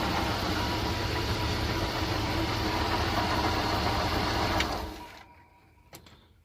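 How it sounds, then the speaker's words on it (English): A van's engine idles steadily with a dense, continuous mechanical hum that runs evenly for several seconds, then cuts off abruptly and leaves a quiet interior with one small knock. "We have a functioning engine."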